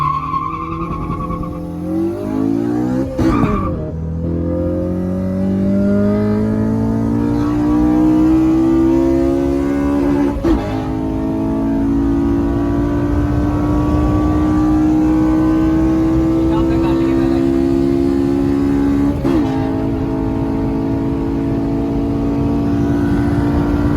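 A car accelerates hard during a race, its engine note climbing steadily through the gears with brief shift breaks, loud and continuous from inside the vehicle at very high speed.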